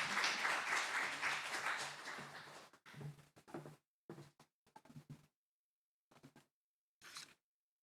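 A church congregation applauding, a dense burst of clapping that fades after about three seconds into a few scattered, isolated claps separated by near silence.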